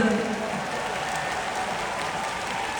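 Dense, even applause from a large concert audience greeting a guest singer at a concert, continuous for about three seconds with no lull.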